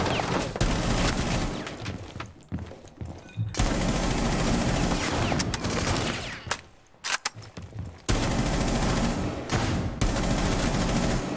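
Repeated bursts of gunfire in Rainbow Six Siege during Operation Steel Wave, loud rapid automatic fire in long stretches broken by short pauses, with no voices.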